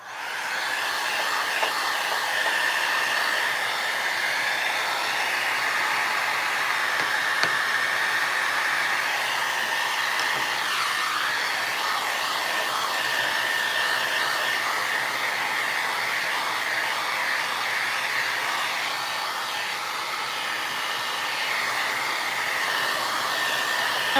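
Hair dryer blowing steadily on painted Christmas tags, a constant whooshing roar with slight pitch wavers as it moves, close and unbroken for the whole stretch.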